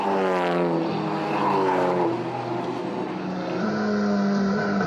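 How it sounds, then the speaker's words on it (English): A Toyota Gazoo racing car in a GTC Series race at Killarney, its engine screaming at high revs with rising and falling pitch through gear changes, loud and continuous close to the microphone. "using the revs to the max and almost beyond, but Moss was holding on for dear life."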